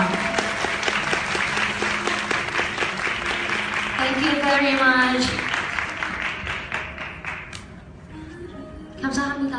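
An audience applauds guests on stage at a Hong Kong press conference, steady mid-loud clapping that fades after several seconds while someone briefly speaks over it.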